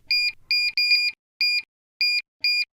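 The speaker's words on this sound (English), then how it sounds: "the machine will beep when any button is pressed" A Centerline 20-quart mixer gives a series of sharp, clear electronic beeps as its buttons are pressed, six short tones, some close together and others spaced apart, alone in a quiet room.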